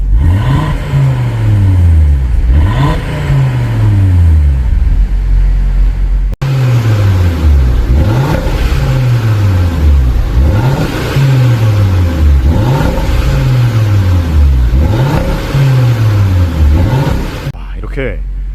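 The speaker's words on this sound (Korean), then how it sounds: "RS3만의 이 스포티한 배기음 가벤 열었을 때는 확실하게 느낄 수 있습니다" An Audi RS3 engine revs repeatedly, each throttle blip rising to a loud, raspy exhaust roar and falling back, about a dozen times in steady rhythm, up close.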